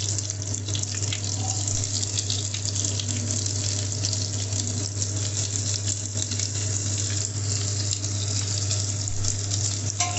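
Onion and garlic sautéing in a pan, giving a continuous loud sizzle with a steady hum underneath and no talking.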